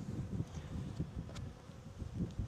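Honey bees buzz in a dense, wavering drone around an open hive as a beekeeper closes it, the hum steady and close with brief louder passes, no talking.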